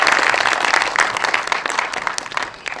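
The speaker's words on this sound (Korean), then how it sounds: "모두의 2025년 화이팅을 위해서 함께 박수해 주시면 감사하겠습니다." Audience at a Korean virtual human industry association general meeting clapping together, a dense, lively patter of many hands that starts strong and gradually thins out.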